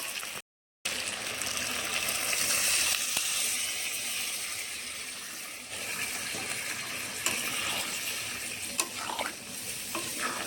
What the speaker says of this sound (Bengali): এবারে জল দিয়ে দিচ্ছি।